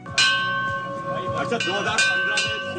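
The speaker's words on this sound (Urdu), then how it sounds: "ارشد نے امید کی گھنٹی بھی بجائی" Arshad Nadeem rings a bell at Governor House, giving a few bright metallic strikes whose tones ring on and decay over a busy background of voices.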